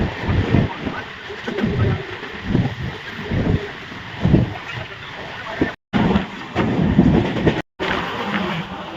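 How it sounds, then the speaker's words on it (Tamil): A passenger train bound for Tirupati rolls along with a steady rumble and rhythmic clatter heard from inside a carriage, with faint bird calls in the background. "இப்போ நம்ம திருப்பதிக்கு ட்ரெயினில் போயிட்டுருக்கோம்"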